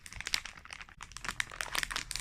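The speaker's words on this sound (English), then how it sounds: "who can help mommy unwrap it?" Hands unwrap a blind-bag Squish-Dee-Lish squishy toy package, making close, quick bursts of plastic crinkling and rustling in an irregular rhythm, with no talking.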